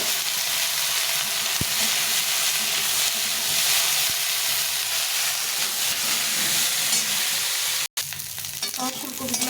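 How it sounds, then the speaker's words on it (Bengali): Cauliflower pieces frying in oil give a loud, steady hiss and sizzle close by, with faint clinks of stirring, broken by a brief silent gap before the sizzling resumes. "এই তেলের মধ্যে ফুলকপিগুলো একটু ভেজে নেবো"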